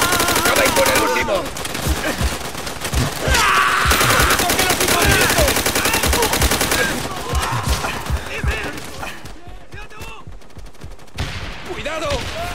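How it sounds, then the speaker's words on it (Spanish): Enemy Japanese machine gun fire in a Call of Duty: World at War co-op battle, loud sustained bursts mixed with other gunfire and game effects, with players shouting over the din before it thins toward the end. "¡Cuidado! ¡Ametralladora japonesa!"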